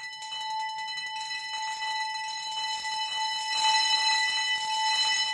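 A synthesizer sound module plays a sustained, bright bell tone with steady ringing overtones that swells slightly louder toward the end, with no voices over it.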